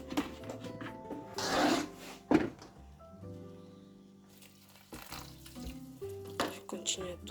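Cassava fufu is stirred in a pot over a lowered fire, giving soft, intermittent scraping and thick squelching strokes at close range against a faint tonal background, with no talk.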